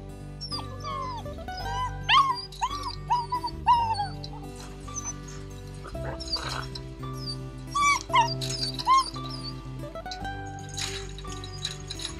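Labradors at a kennel whimpering, yipping and barking in high, wavering bursts over a steady music bed, several dogs close by.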